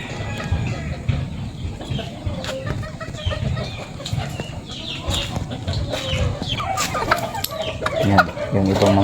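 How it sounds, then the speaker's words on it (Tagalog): Farm chickens cluck and call repeatedly close by, with scattered bird sounds over a busy rustling background and a voice speaking faintly in places. "Yan, puntahan natin yung ibang mga manok ko dito guys."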